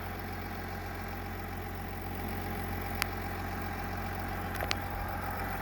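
A 2020 Chevrolet Silverado 1500 with the 3.0 LM2 Duramax diesel idles with a steady, even low drone, heard close, broken only by a couple of sharp clicks.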